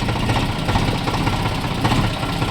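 A tractor engine idles close by with a low, steady rumble and a faint knocking pulse that keeps an even rhythm, loud and alone with no voices.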